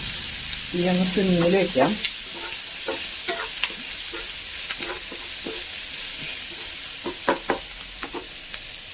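Shallots, curry leaves, ginger and green chilli fry in hot oil in a pan for a fish curry, a steady close sizzle with scraping stirs throughout and a brief burst of speech near the start.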